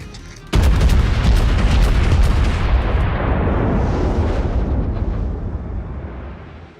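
Main battery guns of the USS Texas battleship fire in World of Warships, a sudden loud, deep boom that rolls out into a long, fading rumble lasting several seconds.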